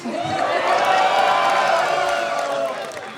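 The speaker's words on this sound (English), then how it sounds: "Make some noise in the crowd if it produced a result for you." Studio audience at a dating show cheering and shouting, a dense swell of whoops and crowd noise rising loudly, peaking mid-way and then easing slightly.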